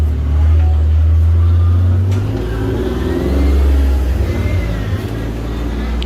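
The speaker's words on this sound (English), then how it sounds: "That's a grocery car." A grocery delivery car passes close by on a street, its engine loud and revving as it accelerates, then the roar fades and steadies into a lower rumble, with no one speaking over it.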